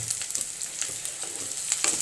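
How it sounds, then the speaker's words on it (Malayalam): Mustard seeds and curry leaves crackle and sizzle in hot oil, a steady bright frying hiss with scattered pops throughout, close by and with no voices. "നമുക്കിത് മൂപ്പിച്ചെടുക്കാം കേട്ടോ"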